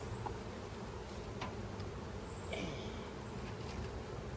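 A soft, steady hum of honeybees around an opened beehive box, faint and continuous with no talking.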